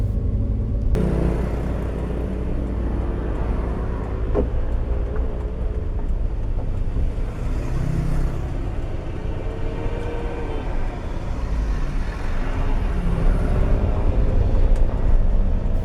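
A manual car pulls away in first gear on a flat, smooth asphalt road, with a steady low engine rumble and road noise heard from inside the cabin and no talking.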